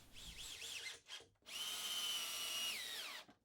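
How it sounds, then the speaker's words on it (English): A drill drives screws into the legs of a wooden workshop stool, short squeaky pulses followed by one long, steady whine that winds down, close and clear with no talking. "Then I can get a couple of screws driven into each."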